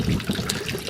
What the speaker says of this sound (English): You can see the water's being pumped in.